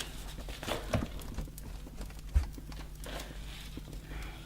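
Horses hitched to a carriage from Mokria clip-clop faintly at a distance, their soft, irregular hoofbeats set against quiet background noise with no speech.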